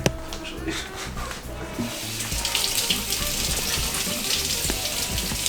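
Water runs from a kitchen sink tap onto a steak being rinsed, a steady close hiss that grows louder and fuller after the first couple of seconds and continues without break, with speech faintly beneath.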